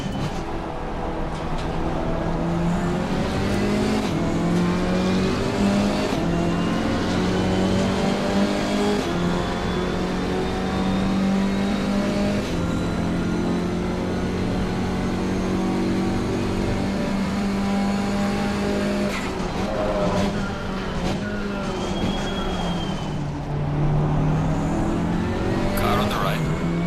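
A Camaro GT4 race car engine in Assetto Corsa Competizione at Kyalami drones loudly and continuously from up close, its pitch rising and falling through gear changes, with brief tire noise and a voice talking over it.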